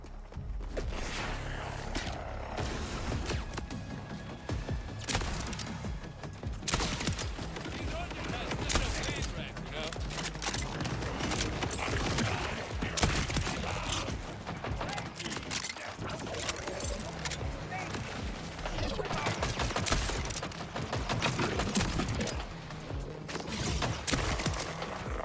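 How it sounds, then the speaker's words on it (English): Explosive shotgun fire in a first-person video game, with dense booming blasts and clattering bursts packed into a loud, continuous stretch of game noise and no clear pause. "Explosive shotgun on the barrel."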